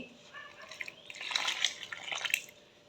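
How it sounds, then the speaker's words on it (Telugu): Hot water trickles and splashes into murukku dough in a short, uneven pour, with faint dripping sounds building toward the middle before tapering off. "ఇప్పుడు హాట్ వాటర్ వేసుకుంటాను నేను ఇందులోకి"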